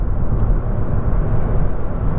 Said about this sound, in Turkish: Epey rüzgarlı bir havada kullanıyorum bugün.